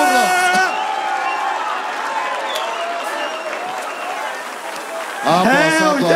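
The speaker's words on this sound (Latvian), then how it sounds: "Aplaus!" A crowd at a freestyle rap battle bursts into sustained applause and cheering, a dense wash of clapping and shouts filling the whole stretch. A voice talks over it at the start and again near the end.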